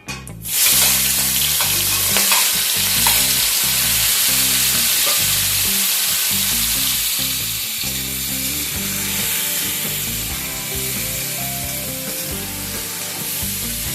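Shrimp coated in salt and turmeric frying in very hot mustard oil, a loud, steady, crackling sizzle that fills the whole stretch with no speech.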